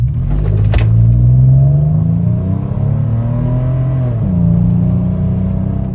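A vehicle makes a run down a straight stretch of road, its engine droning loudly and steadily as it accelerates with rising pitch, easing briefly before pulling again, heard close from inside.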